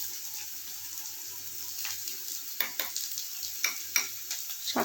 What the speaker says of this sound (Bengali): এবার আমি দিয়ে দিচ্ছি পেঁয়াজ কুচিটা। ফ্রাই করে নেবো ভালো করে।